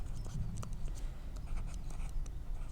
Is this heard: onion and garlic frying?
no